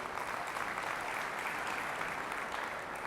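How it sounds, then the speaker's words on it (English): Steady, dense applause from an audience at a real estate agent rally, even and continuous throughout with no speech over it. "So just a round of applause."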